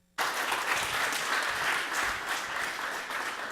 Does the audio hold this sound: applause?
yes